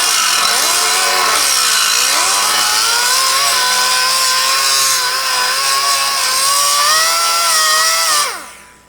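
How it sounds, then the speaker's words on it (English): An angle grinder cuts into a metal post on a Lincoln arc welder panel, giving a loud, steady, high whine with shifting pitch that winds down sharply at the end. "we're going to take this and we're going to grind it off."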